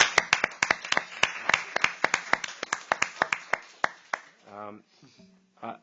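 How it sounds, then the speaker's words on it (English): A round of applause from a forum audience, sharp claps in a quick irregular patter for about four seconds before fading out. "can we give her a round of applause for me?"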